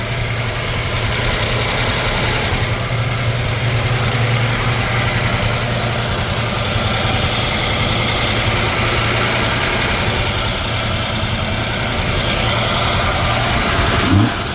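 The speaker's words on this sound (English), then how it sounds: "I'd say that's a pretty healthy sounding engine." A 1956 Chevy 3100 pickup engine idles steadily and loudly with the hood up, a low, even rumble holding throughout with a slight rise at the very end.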